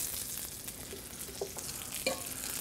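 Turkey tenders fry in a hot, smoking pan with a steady close hiss of sizzling oil, a few soft stirring or clinking touches, and no talk.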